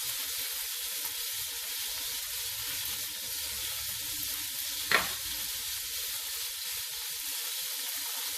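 Pork chops sear in a pan for a braise, giving a steady sizzling hiss throughout with one brief sharper crackle near the middle, close and alone with no talking.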